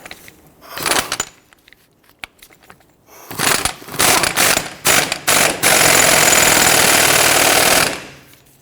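A tool runs in several short bursts and then one long, loud continuous burst while an axle nut is tightened on a front CV axle of a 2006-2014 Honda Ridgeline 3.5L V6, with quieter mechanical handling before it.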